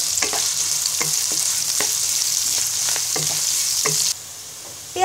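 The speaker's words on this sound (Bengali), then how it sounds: "এবার পেঁয়াজটাকে ব্রাউন কালার করে ভেজে নিব" Chopped onions sizzle in hot oil in a pan, a steady close hiss broken by a few clinks of a spatula stirring; no voices.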